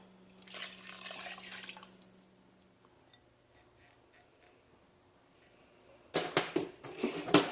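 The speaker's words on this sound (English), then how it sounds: "I am going to add a little water just because I need more liquid in there." Water poured from a tap into a cooking pot on a home kitchen stove, an early splashing pour that fades, then a louder, closer gush of running water near the end.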